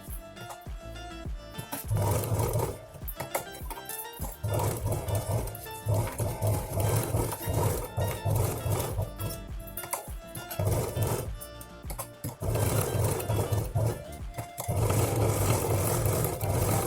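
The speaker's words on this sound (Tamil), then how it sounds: "இப்போது சுற்றி 4 பக்கமும் ஸ்டிச்சஸ் போட்டு எடுத்துக்கலாம்." A sewing machine stitches around the edges of a ladies' handbag, giving a steady, close, droning whir in long runs broken by short pauses.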